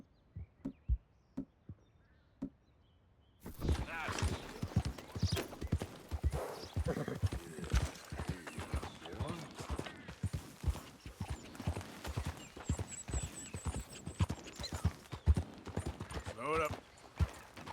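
A horse in the video game Red Dead Redemption 2 clip-clops in a steady rhythmic gait, a few isolated hoof thuds at first, then continuous galloping hoofbeats under ambient game sound, with a brief whinny.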